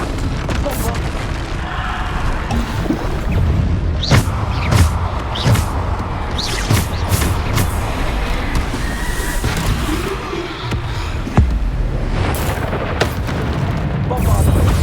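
Bombarda spell blasts go off repeatedly in Hogwarts Legacy combat, a series of sharp booms and bursts over a dense rumbling battle bed, with a voice shouting spell names in between.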